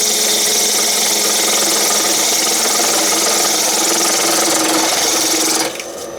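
A wood lathe spins a Mahonia ring box blank while a tool feeds in to cut a tenon, giving a steady, loud whirring drone with a hiss of cutting that eases off in the last moment.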